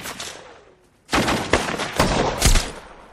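Gunfire from a combat scene in the war film Lone Survivor: a loud cracking shot, a brief lull, then a dense run of sharp bursts and booms close by.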